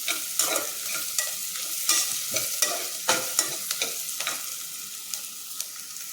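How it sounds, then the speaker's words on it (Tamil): Onions and green chillies sautéing in a little oil for tomato rice, a close sizzle broken by frequent rhythmic scrapes and taps of a spatula stirring, with no voices. "ஃபஸ்ட்டு வெங்காயத்தையும் பச்சை மிளகாயும் போட்டு நல்லா வதக்கிடணும்"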